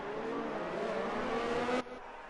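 Race cars in F1 2019 running a formation lap on the Austria circuit, a steady engine whine that cuts off abruptly near the end, moderately loud with no talk.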